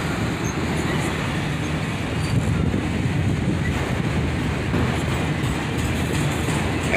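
Freight train cars roll steadily past on the rails, a dense, continuous rumble and rattle close by, with wind buffeting the microphone throughout.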